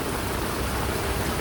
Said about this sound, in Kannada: ಮಳೆ ಜೋರಾಗಿ ಬರ್ತಿದೆ